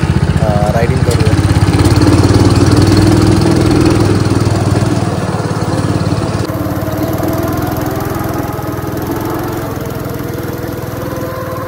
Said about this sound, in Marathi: मित्रांनो गो कार्टिंगसाठी आपण आलेलो आहोत रेडबटन इथे आणि आता आपला पण आहे गो कार्टिंगचा.